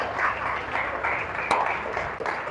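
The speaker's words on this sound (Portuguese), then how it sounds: "Aplauda o Senhor bem forte" Congregation clapping hard during a church service, a steady dense patter of many hands filling the space, loud and continuous with one sharp clack partway through and no voices.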